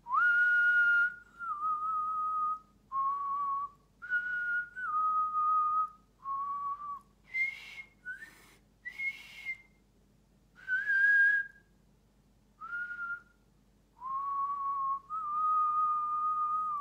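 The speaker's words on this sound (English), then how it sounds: "I'm alternating when I'm blowing out as I'm whistling and when I'm whistling in" A person whistles a slow melody, alternating between blowing out and breathing in, in sustained phrases separated by brief pauses, clear and close, with no talking.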